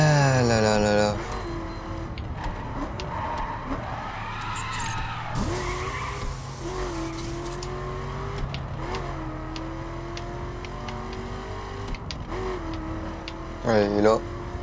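A car in the racing video game The Crew skids and accelerates, with a long tire squeal over a steady engine drone and rising revs, while someone speaks French over the game sound.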